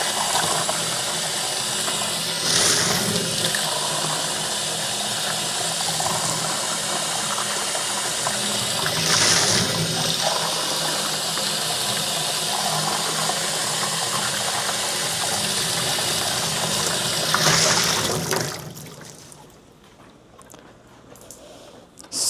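Running buffer is poured out and the lab container rinsed several times during Western blot sandwich preparation. Water splashes and runs continuously with a few louder surges, then cuts off near the end.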